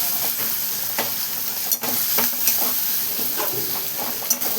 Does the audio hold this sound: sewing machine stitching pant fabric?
no